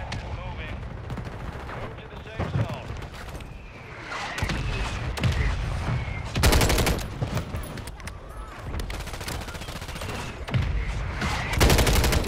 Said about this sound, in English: Whose mortar is that? Is that ours?